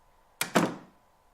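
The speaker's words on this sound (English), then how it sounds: "Let's close the door behind us." A door closing in the horror game Anatomy: two close, quick impacts, a light click and then a heavier thud that rings out briefly, against a very quiet, near-silent background.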